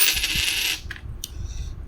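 A Belgian 20 franc coin, struck in an unusual metal that is neither brass, copper nor nickel, drops onto a hard surface with one bright metallic clink and then rings on in a short, close scatter of smaller clinks as it settles.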